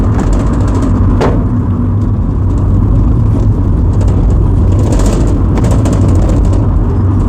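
A car cruising at low speed on a road, with a steady engine and road rumble throughout and occasional rattles from inside the cabin, loud and close with no voices.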